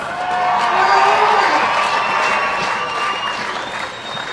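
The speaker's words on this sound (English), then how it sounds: "A round of applause." A crowd at the All Blacks' 2015 Rugby World Cup victory parade in Auckland applauds steadily and loudly throughout, with scattered cheers and whoops rising above the clapping.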